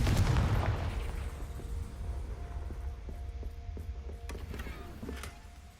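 The Confringo blasting spell in the game Hogwarts Legacy, a heavy booming explosion right at the start that decays into a rumbling tail, followed by faint clicks and small impacts.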